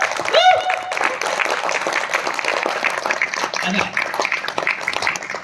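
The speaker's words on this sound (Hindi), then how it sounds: "आप अपने लिए ताली बजाइए जोरदार।" An audience at a motivational talk claps loudly, a dense, continuous wash of applause with a brief whoop at the start and voices mixed in throughout.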